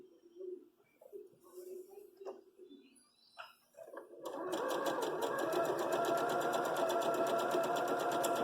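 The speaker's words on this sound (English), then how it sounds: "And you'll just continue to sew after that." A sewing machine stitching quilt fabric pieces runs steadily and fast at close range after a quiet start, with faint bird cooing and soft handling sounds before it.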